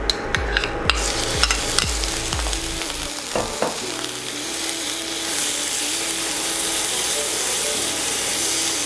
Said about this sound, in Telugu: ఈ సొరకాయ తురుముని ఈ నెయ్యిలో వేసుకొని పచ్చి వాసన కొంచెం ఉంటుంది కాబట్టి అది పోయేంత వరకు